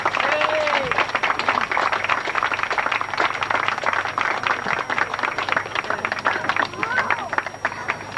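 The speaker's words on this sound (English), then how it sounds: "Give a big round of applause." A crowd in Chelmsford High Street applauding the town centre manager in 1997, with steady clapping from many hands over the murmur of voices.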